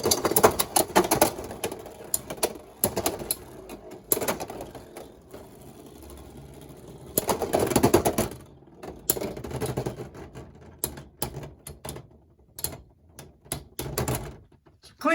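Beyblade X tops spin and clash in a stadium battle set, making loud whirring, scraping rattles in bursts with quieter pauses between them, ending in a few sharp clicks.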